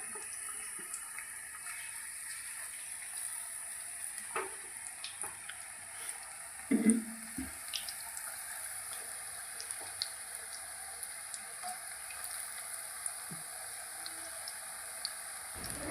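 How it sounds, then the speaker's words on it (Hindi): Potato pakoras frying in hot oil, a steady soft sizzle with faint stirring and clinks at moderate distance, no voices. "आलू का पकौड़े बना रही थी।"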